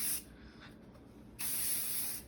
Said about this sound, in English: I'm also going to spray it before I put it in the ponytail just so that it helps it smooth.